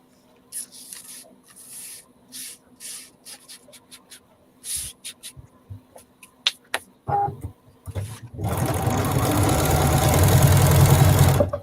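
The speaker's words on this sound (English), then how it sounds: "Especially when I'm trying to sew a straight line." A sewing machine runs in short start-stop bursts of stitching, then settles into a long, continuous run of fast, even needle chatter close by.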